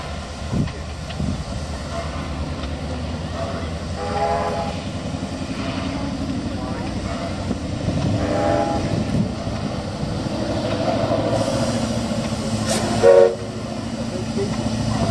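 Diesel locomotive B72 rumbles past on a photo run at a railway workshops open day, its engine and wheels building loudly over about fifteen seconds, with a sharp horn blast near the end and faint voices around it.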